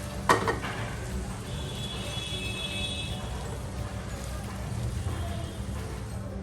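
Chicken for pizza sizzling in a pan as its water cooks off, a steady soft frying hiss with a brief clatter of utensil against the pan near the start.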